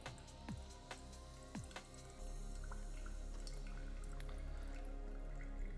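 Coffee draining through a NextLevel Pulsar brewer: a steady close trickle and light dripping of liquid, with a few soft drips early on before the flow settles into a continuous, even patter.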